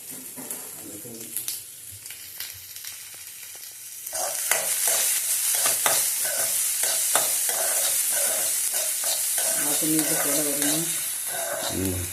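Chopped onions are stirred in a pan. Soft scraping and light sizzling come first, then a loud, continuous frying hiss takes over, broken by repeated stirring scrapes.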